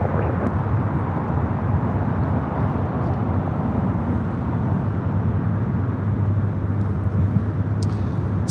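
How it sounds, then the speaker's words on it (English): A British Airways airliner taking off at LAX, a steady broad jet roar heard from a distance with a strong low rumble, sustained throughout. "Speedbird taking off."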